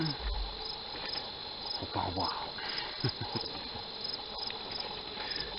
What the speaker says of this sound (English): so damn black crickets